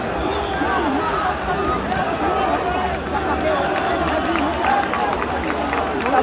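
Stadium crowd at a Santos versus Atlético-MG football match applauding amid loud, dense murmur and cheering, a steady wash of noise throughout with no pauses.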